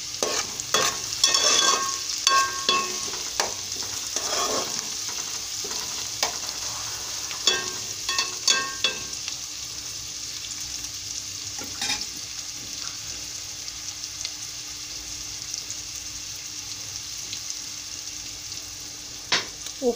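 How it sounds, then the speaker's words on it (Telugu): Onions frying in a pan for a bottle gourd and milk curry, a steady high sizzle with a spoon scraping and stirring in bursts through the first half, then quieter frying with occasional clinks. "ఉల్లిపాయలు కొంచెం వేగితే చాలండి."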